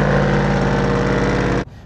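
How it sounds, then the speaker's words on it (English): Chevrolet Sierra 5.3 V8 with a stage 2 cam, long tube headers and an X-pipe into dual Carven TR series mufflers, loud close choppy idle with a lumpy rhythm, cutting off abruptly near the end. "I now have Texas speed long tube headers that then go into an X-pipe to dual Carven TR series."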